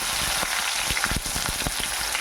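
Finely chopped onions sauté in hot oil with popped mustard seeds, a dense close crackling sizzle broken by brief stirring scrapes over a couple of seconds.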